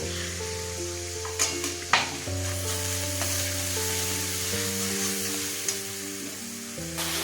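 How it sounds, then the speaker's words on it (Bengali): Turmeric, cumin and coriander powder sizzle steadily in a hot oiled pan as a spatula stirs them, with a few scraping knocks and a low steady hum underneath. "হলুদ জিরের গুঁড়ো ধনের গুঁড়ো দিয়ে দিলাম"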